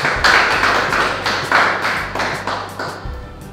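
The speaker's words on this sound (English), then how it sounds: "Everybody give him a big clap." A small group of people clapping together, with sharp, close hand claps in an uneven rhythm that taper off after a few seconds, and no talking.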